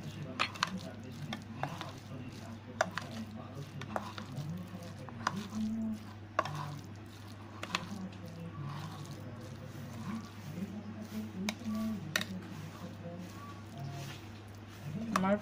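Bhel puri filling being tossed and mixed in a bowl, with soft squishy stirring and repeated light clinks of a spoon against the bowl throughout.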